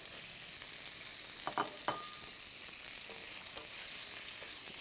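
Squid stir-fries in XO sauce in a hot pan, a soft continuous sizzle with a couple of brief clanks and scrapes near the start, no talking.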